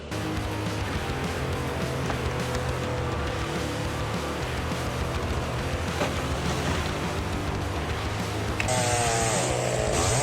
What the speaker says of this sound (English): The fast-spinning chain cuts through the bark first, then gradually moves deeper into the solid wood